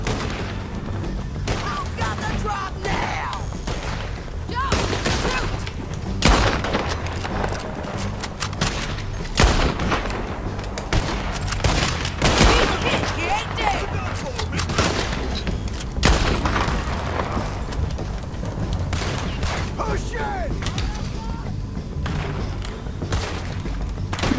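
Gunfire in the video game Red Dead Redemption II, repeated sharp shots and thuds in irregular bursts over a continuous game soundscape, with a player talking at times.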